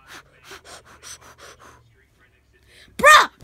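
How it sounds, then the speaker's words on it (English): A person pants and gasps in a sharp, loud burst of heavy breathing near the end, following a stretch of talking voices. "He's still kind of breathing."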